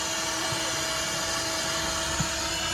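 A vacuum cleaner runs steadily while cleaning a car interior, a constant close motor whine with a couple of faint knocks and no talking.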